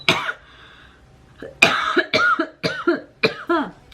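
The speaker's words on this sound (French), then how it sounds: "Je vous avais dit que j'allais tousser" A burst of several sharp coughs, close and loud, one short hack first, then a rapid cluster of coughs after a brief pause.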